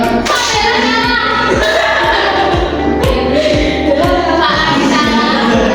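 Steady rhythmic hand claps from a group repeat at an even beat through a loud, busy background of a crowd, during a classroom clapping game.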